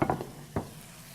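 Pork tenderloin pieces go into an oven-proof skillet, giving a few quick clattering thuds of meat and metal followed by a soft, faint sizzle.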